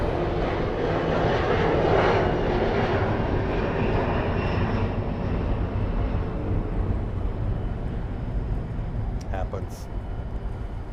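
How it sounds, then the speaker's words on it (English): An Avianca Cargo Boeing 737-400 departing Miami airport: a loud, steady jet engine roar that swells and then slowly fades as the aircraft moves away, with faint voices in the background. "Avianca Cargo 737-400s"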